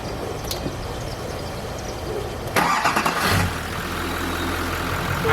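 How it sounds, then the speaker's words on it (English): Diesel truck engine being cranked then catching and settling into a steady low idle, loud and close with clattery bursts as it starts, no talking. "Start your truck."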